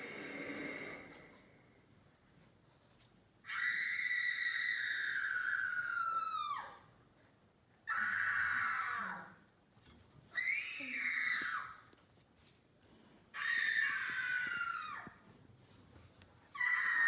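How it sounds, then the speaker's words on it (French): Screams and shrieks from a theatre club stage performance come as several long, high, wavering cries in separate bursts with short pauses between, loud over a quiet hall. "Soudain, des cris, des hurlements derrière moi."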